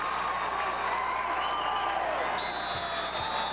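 A small crowd at a 1987-88 college basketball game cheers and roars on its feet, a sustained distant wash of noise with rising whoops over the arena hum.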